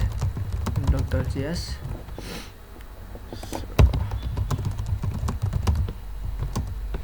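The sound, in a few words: typing code on a computer keyboard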